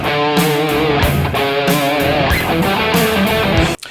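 A distorted electric guitar in standard tuning, playing classic rock, opens a song's solo with a loud, dense phrase of bent and sliding notes. It runs steadily for about four seconds and stops abruptly, with no talking.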